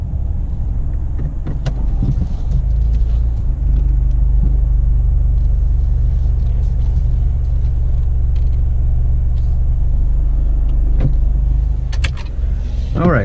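Steady low engine rumble and road drone from a car moving slowly between spots, a continuous loud hum inside the cabin with faint clicks and rustles on top.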